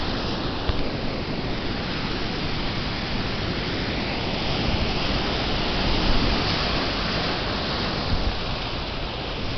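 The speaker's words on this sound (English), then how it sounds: "slammed by waves during higher tide." Ocean waves surge continuously at the rocky tide pools of Cabrillo National Monument at higher tide, forming a dense, steady roar with slight swells in loudness and no voices.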